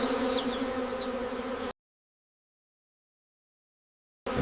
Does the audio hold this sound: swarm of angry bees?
yes